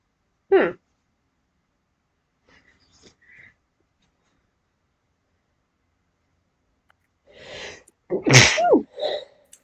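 A person sneezes sharply once near the start, then a louder, longer sneeze with a snort comes near the end, each close and loud against near silence.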